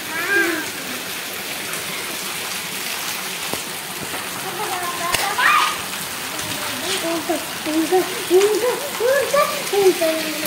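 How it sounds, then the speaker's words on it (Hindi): Light rain falls after a heavy downpour, a steady wet patter and splash running through the clip while a voice talks over it nearby. "हल्की बूंदें अभी गिर रही हैं, बहुत ज़्यादा तेज बारिश हुई"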